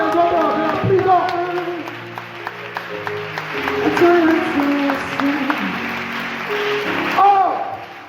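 Congregation at a French-language church service applauding and acclaiming, sustained clapping and voices filling the room with a loud burst near the end, voices talking and calling out throughout.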